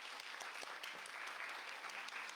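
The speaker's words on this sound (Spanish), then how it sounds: "les pido un aplauso para ustedes" Student audience at an international law seminar event applauds, a steady wash of many hands clapping at moderate volume, continuous throughout with no talk above it.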